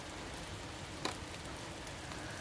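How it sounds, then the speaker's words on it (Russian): Steady rain falls outdoors in Kazan, a dense even hiss with no breaks and one brief brighter patter partway through, and no voices. "Но то, что дождик идет, слышно."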